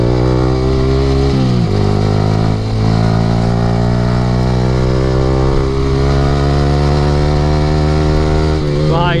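A Yamaha R15 V3 fitted with an Akrapovic R9 exhaust runs on a hill road, its engine holding a steady, loud drone with brief rev shifts near the start and at the end.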